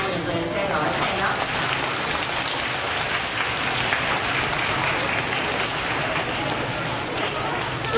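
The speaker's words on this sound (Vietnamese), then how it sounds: "cô đề nghị toàn trường chúng ta vỗ tay nhiệt liệt khen ngợi" A whole school assembly claps warmly to praise students for their good marks, giving a continuous, even roar of applause that holds steady for several seconds, with faint voices mixed in.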